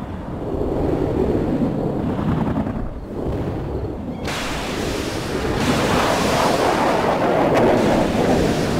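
Heavy artillery barrage in World in Conflict, a dense continuous rumble of distant explosions and roaring bursts that swells louder toward the end, with no speech.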